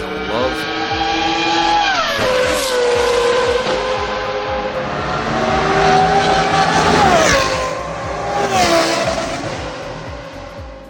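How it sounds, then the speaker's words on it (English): An Audi R8 V10 on a dyno with a Valvetronic F1 exhaust, loud high-pitched engine howl rising through revs, dropping with gear changes and climbing again, close and dominant throughout. "This car's running our Valvetronic full F1 exhaust system."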